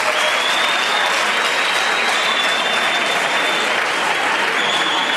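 Steady, dense applause from a crowd of young people in a hall, gathered before a podium where a bishop, Monseigneur Léonard, is being honored; the clapping stays loud and continuous with no gaps.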